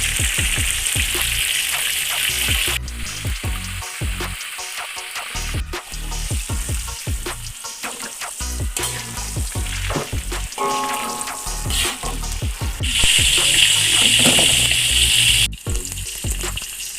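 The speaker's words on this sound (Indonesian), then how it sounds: "Lanjut kita goreng terungnya" Eggplant frying in a pan of hot oil, giving a loud continuous sizzle with crackling and occasional stirring clatter, close up and with no talking.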